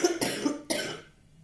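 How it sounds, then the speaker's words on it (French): A woman coughs indoors: two close, abrupt coughs about half a second apart, the second trailing off into quiet. "Celle-là, elle tousse, elle ne s'excuse même pas"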